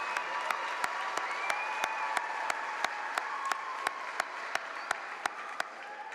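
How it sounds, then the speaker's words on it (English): Graduation ceremony crowd gives a sustained round of applause in a large hall, a broad wash of clapping with one set of sharp, evenly spaced claps standing out near the microphone. "So let's give them a round of applause."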